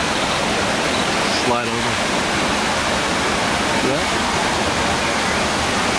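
A steady, broad rush of falling water from a waterfall on a river, fills the scene, with a couple of brief voices speaking over the roar.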